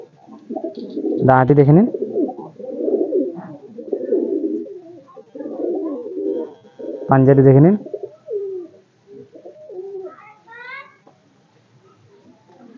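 Madrasi pigeons in a loft coo in two short, throaty bursts, close by, while someone talks steadily throughout.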